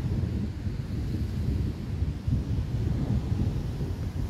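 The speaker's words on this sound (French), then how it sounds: "Et c'est tonnerre permanent." A strong thunderstorm gives a continuous low rolling rumble of thunder, steady and fairly loud with slight surges, mixed with wind, and no voices.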